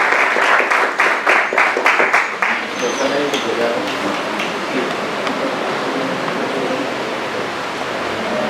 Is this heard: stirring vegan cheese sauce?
no